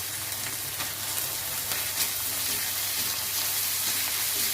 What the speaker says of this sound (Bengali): একটু নাড়াচাড়া করে নিয়ে দিয়ে দেবো রসুন বাটা,